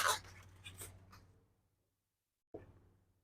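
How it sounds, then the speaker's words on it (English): Foil is pulled off rested rotisserie pulled pork from a kettle grill. Close crinkling and rustling comes in a few quick bursts, fades into a short silence, then returns as one more rustle. "Pull the foil off here."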